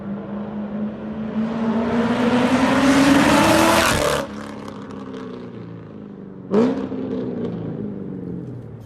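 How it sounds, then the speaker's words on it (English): A 2005-2009 Ford Mustang with an aftermarket exhaust revs up, rising to a loud roaring peak and then cutting off sharply. After a brief idle, a second quick blip of the throttle follows, and the engine burbles low. "I posted a clip on my Instagram showing my new exhaust sound"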